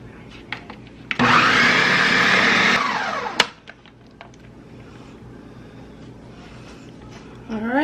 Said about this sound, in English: I'll go ahead and blend this together first.